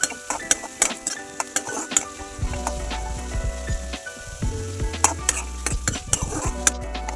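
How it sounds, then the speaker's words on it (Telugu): Onions frying in a pan, stirred now and then with a utensil scraping and clinking against the metal, over a steady close sizzle with no talking. "ఆనియన్స్ వేసి బాగా కొద్దిగా వేయించాలి"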